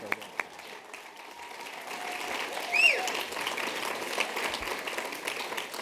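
Audience at a distinguished service award ceremony applauds for an honoree, a steady wash of clapping that swells in the middle and holds at moderate loudness, with faint background voices mixed in.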